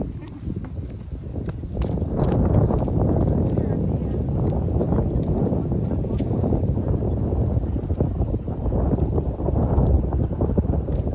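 Gusty beach wind at Sonokeyama, Japan, buffets the microphone with a constant low rumble, rising and falling for several seconds.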